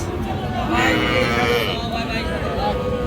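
Young heifer and bull calves bleat and low amid a busy crowd at a weekly livestock market in Bangladesh, with people talking loudly throughout and animal calls rising over the chatter.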